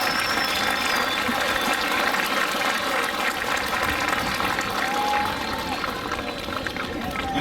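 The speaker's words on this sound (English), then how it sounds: "Let's give them a round of applause." A crowd at a Vacaville Pony Baseball opening-day ceremony applauds the managers and coaches, a steady, dense wash of clapping that holds at an even loudness throughout.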